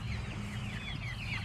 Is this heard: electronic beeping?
no